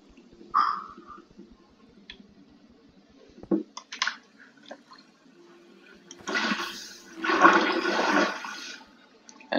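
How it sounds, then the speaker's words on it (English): Water bucket emptied in the Minecraft video game, a burst of splashing, gushing water heard twice mid-clip and then louder near the end, among faint clicks and game noises. "use some water bucket action over there"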